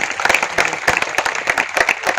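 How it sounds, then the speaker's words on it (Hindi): An audience at a motivational speaking event applauds the host, with steady, brisk clapping from many hands that sounds close and fills the short stretch evenly. "मैं चाहता हूं एक संचालक के लिए जोरदार ताली होनी चाहिए"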